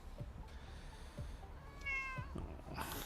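A cat gives one short, rising meow, mid-distance and fairly quiet, after a few soft thumps in a quiet room.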